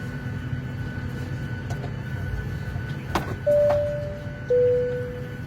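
Steady low roar of an AirAsia aeroplane cabin in flight with a constant engine drone, a few faint clicks, then two loud sustained electronic chime tones near the end.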